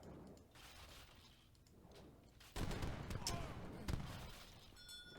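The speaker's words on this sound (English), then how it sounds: "this base is going to go down very, very quickly to this much siege from both the Janissaries and the Avis guns" Janissaries and Abus guns firing during an Age of Empires III match, with a dense burst of cracking volleys and booms rising midway, fairly faint, with no talk.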